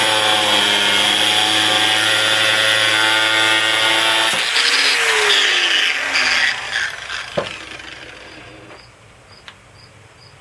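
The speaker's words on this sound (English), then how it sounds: "just use the zip cut blade and the grinder to cut it off" Angle grinder fitted with a zip cut blade slicing through steel threaded rod for a work table, a loud steady high whine that cuts off partway, then winds down with a few clanks.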